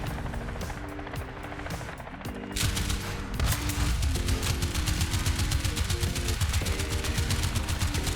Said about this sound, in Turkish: Bir helikopter geliyor ve bu araç helikopteri sever.